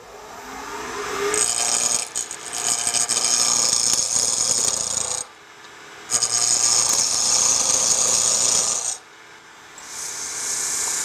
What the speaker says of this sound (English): This is pure spindle gouge work.